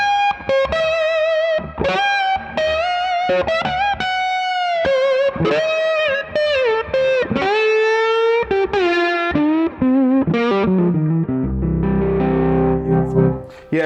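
Electric guitar on its neck pickup through a Two-Rock amp, playing a sweet, clean melodic run of sustained single notes and bends with light effects, close and loud, ending in a lower strummed chord.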